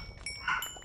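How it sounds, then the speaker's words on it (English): A dog gives a short single bark, close and moderately loud, lasting under a second. "Stop barking!"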